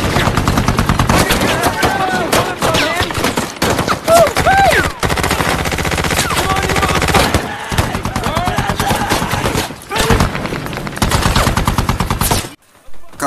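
A Taliban attack from a hillside in a war film brings loud, sustained bursts of rapid gunfire mixed with shouting voices and score, rattling almost continuously before cutting out abruptly near the end.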